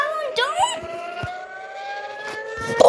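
An Israeli civil defense air raid siren sounds as an emergency alert, its tone sweeping up and then holding a steady wail, loud and close, with brief exclamations from a person over it.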